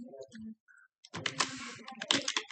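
Python code is typed on a computer keyboard in a fast, dense run of close clicking keystrokes, preceded by a brief bit of speech.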